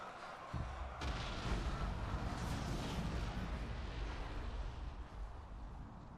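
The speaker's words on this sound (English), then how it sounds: "That nuclear blast is still quite fun" A nuclear blast explodes in the Ultimate Epic Battle Simulator video game, a sudden deep boom that swells into a loud, sustained roar with low rumble lasting several seconds.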